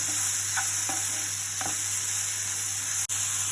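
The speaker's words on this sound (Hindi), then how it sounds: "इसे अराउंड 1 मिनट तक भूनेंगे, जिससे कि गाजर जो है हमारा वो थोड़ा सा पक जाएगा।" Carrot and bell pepper stir-fry in a pan as spring roll filling. A steady hiss of frying runs throughout, with a few nearby scraping stirs early on and no voices.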